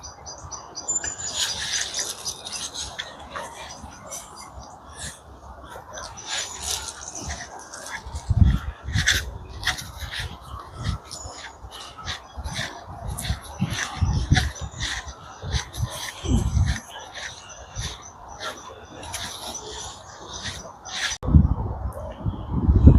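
Lively birds chirp and tweet repeatedly in bursts, mid-distance, with occasional thumps and rustles beneath the calls.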